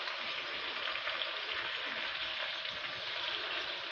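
Chicken fries in a pan with onion, garlic, ginger and green chilies, a soft continuous sizzle, fairly quiet and even, with no talking.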